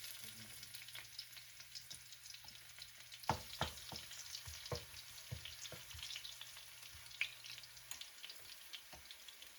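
Garlic sizzles quietly in oil in a pot, a soft steady frying crackle broken by a few clinks and stirring knocks, with no one talking.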